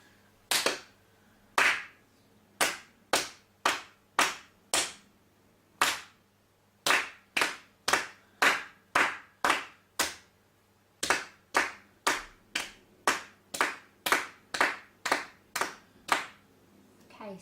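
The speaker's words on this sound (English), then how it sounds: "So we clap it together first" Hand clapping the rhythm of a beginner piano piece in a lesson, about thirty sharp, close claps in steady patterned groups separated by short pauses, no talking.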